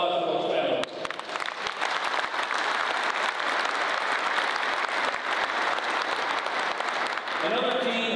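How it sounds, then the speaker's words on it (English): A crowd at a military change-of-command ceremony at Al Udeid Air Base applauds loudly and steadily for several seconds, with a voice speaking briefly just before and after the clapping. "How about a round of applause for those families?"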